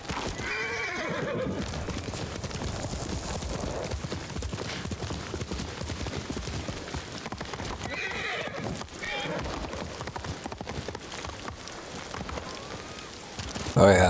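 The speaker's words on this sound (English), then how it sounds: "this is a samurai horse" A samurai horse whinnies and its hooves clip-clop in the Ghost of Tsushima game, with steady hoofbeats running throughout, a couple of neighs, faint rain-like ambience and occasional voice.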